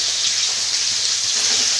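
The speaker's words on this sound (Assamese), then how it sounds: "আনফালে আমঠু ভাজি আছোঁ" Green mango (amthu) frying in a pan at home, a steady close sizzle with a hissing, watery texture and no break across the short stretch, no talking over it.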